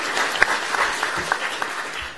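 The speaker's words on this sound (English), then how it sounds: "We'll give them a round of applause" A room at an Alvin ISD school board meeting breaks into steady applause for students of the 2018 Lone Star Leadership Academy, a dense, even patter of many hands clapping with no voices over it.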